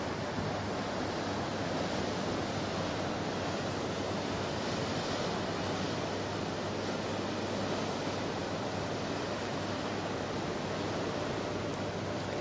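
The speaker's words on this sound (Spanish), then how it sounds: "El mar aquí enfrente." Sea waves surge continuously in front of the terrace of the Viva Cala Mesquida resort, forming a broad, steady wash of surf with some wind noise and no talking.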